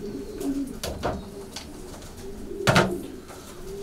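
Racing pigeons coo in a loft, several soft throaty calls rising and falling close by, with a louder burst near the end and faint rustling between.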